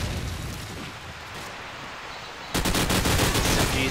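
Steady rapid SMG fire in Call of Duty promod on the Backlot map, a continuous rattling stream that turns louder and denser partway through, with no talking.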